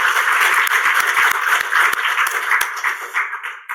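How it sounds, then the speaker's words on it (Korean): A church congregation claps for its teachers during a Sunday service, a fairly close, loud burst of many hands with distinct sharp claps, tapering off near the end. "매주마다 가르치는 사역을 위해서 수고하시는 선생님들을 위해서 지금 박수 한번 쳐주세요"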